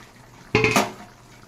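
Water poured into spiced masala simmering in a pan for potol prawn curry, a short splashing burst with a brief sizzle that fades quickly.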